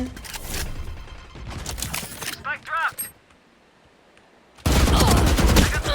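Bursts of gunfire in the tactical shooter Valorant, loud rapid shots in clusters at the start and again at the end, with a quieter gap between and game effects layered underneath.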